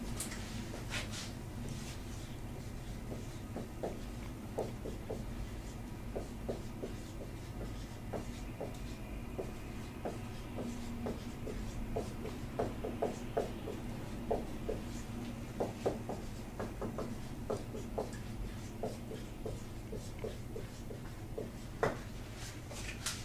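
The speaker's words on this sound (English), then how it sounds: "I'm going to write it on the board and then we can compare" Marker or chalk writing on a classroom board, a steady series of short scratchy strokes and taps spread across the whole stretch, fairly close and clear over a quiet room hum, with no talking.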